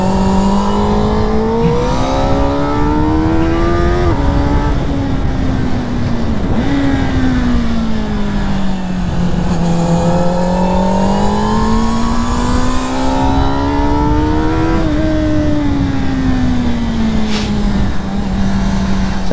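A CFMOTO 500SR four-cylinder motorcycle screams at high RPM on a ride. The engine sounds loud and close, with a strong intake howl that rises and falls through gear changes and never lets up, and no one speaks.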